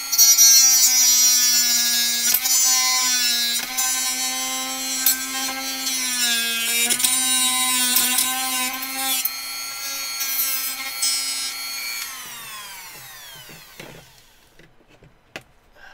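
A Dremel rotary tool cutting into a plastic shell part, a loud high-pitched whine that dips and recovers under load several times before spinning down and stopping.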